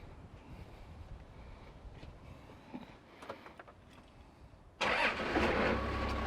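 A car engine is jump-started from a battery: after several seconds of quiet rustling and wind, it suddenly catches and settles into a loud, steady idle close to the microphone.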